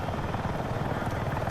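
Attack helicopter hovering low in Battlefield 6, a dense, steady rotor thump and engine roar, loud and close, with no pauses.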